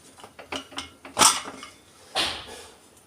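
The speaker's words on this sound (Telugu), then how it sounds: "ఇలాంటి టైంలో మనం కుక్కర్ క్యాప్ తీసి చూద్దాం" A pressure cooker lid is worked open after a chicken biryani has cooled, heard as a run of close metallic clicks and clinks followed by a louder scraping clank, without speech.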